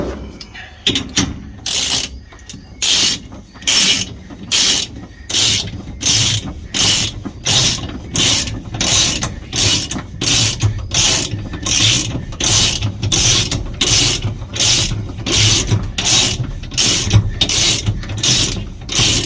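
Ratchet tightening bungee cables on a 1945 Taylorcraft BC-12D airplane, loud close-up clicking in a steady series of even bursts, repeated some twenty times with short pauses between strokes.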